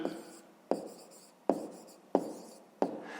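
A pen writes on paper, making repeated scratchy strokes in short bursts about every two-thirds of a second, close and clear with no talking.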